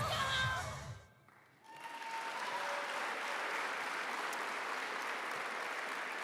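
A large crowd at a university athletics awards ceremony claps and cheers in sustained applause, loud and continuous after a short lull, filling the whole stretch.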